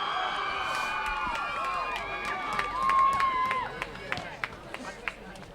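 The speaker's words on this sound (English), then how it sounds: "the crowd is electric." A football crowd at a school game between Andover and Exeter cheers steadily as players gather on the field, a broad wash of distant voices with scattered claps and shouts growing busier toward the end.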